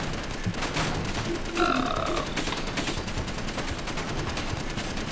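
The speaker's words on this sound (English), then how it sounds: "There's an automatic rifle, which I thought was cool." An automatic rifle fires in the game Space Engineers as a dense, continuous rattle of rapid shots, with a brief tonal mechanical whine partway through.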